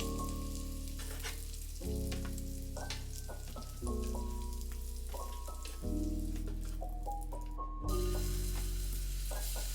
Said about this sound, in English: Now that I'm done frying my shrimp with the same oil